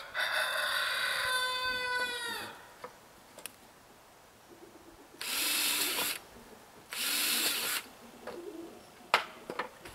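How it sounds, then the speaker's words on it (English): A power drill whines steadily at first while drilling pallet wood for shake siding, then two more loud drilling bursts follow after a pause, with light knocks and clicks in between. "Drilling is going to take extra time."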